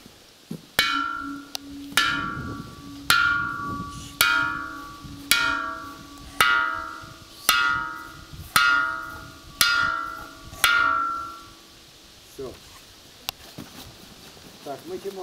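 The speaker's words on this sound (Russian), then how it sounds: "Ты любой колокол бери и ударь 10 раз." A bell is struck ten times at an even, unhurried pace, each ringing strike decaying before the next, close and loud, with a low hum and a few faint knocks afterward.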